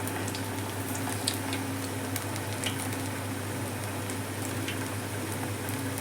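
Horse gram vadas dropped one by one into hot oil, frying with a steady, even sizzle and bubbling that holds constant throughout, close and moderately loud, with no talking.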